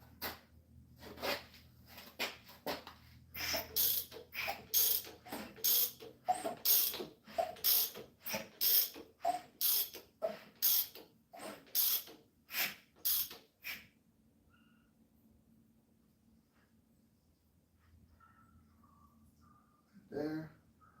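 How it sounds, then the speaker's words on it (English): An engine with an air gap intake manifold and port injection is turned over by hand, giving a long run of rhythmic ratcheting clicks and mechanical clunks, close and steady, then a quiet pause before a final clack. "Let me turn the motor over."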